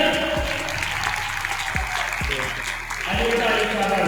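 Audience applause greets a girl taking third place at an award ceremony for Quranic calligraphy at an arts council, a steady broadband clapping that runs throughout under a voice and some tonal background sound.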